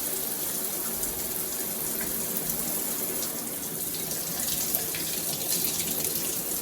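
A Delta 1700 Monitor shower faucet runs with water gushing steadily in a continuous, fairly loud hiss and splash that stays unbroken throughout.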